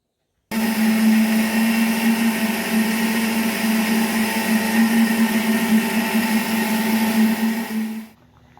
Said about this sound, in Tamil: இன்னும் தேங்காய் அரைச்சி ஊற்றணும்